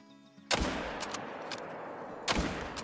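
Two loud, sharp gunshot blasts in the hunting video game Call of the Wild, on a Mississippi whitetail hunt, each followed by a rolling echo tail, spaced about two seconds apart with no talking.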